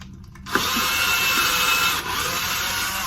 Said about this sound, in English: Drill a little ways in